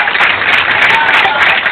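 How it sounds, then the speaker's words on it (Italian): A loud, dense wash of audience applause at a competition, steady and sustained throughout without breaks. "merita un super applauso"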